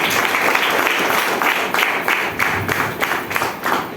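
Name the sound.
audience clapping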